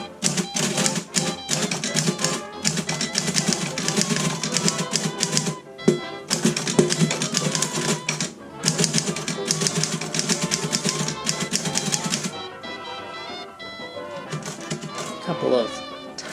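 Typing on a Corona typewriter produces dense, continuous keystroke clatter that runs at a steady pace for most of the passage, with brief pauses and a lighter, sparser stretch near the end.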